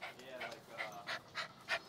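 A small dog pants close by in quick, rhythmic breaths, about six bursts, soft and fairly faint.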